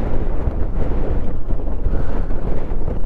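Strong wind roars across the microphone during a motorcycle ride, a loud, steady, rumbling buffeting with no voices.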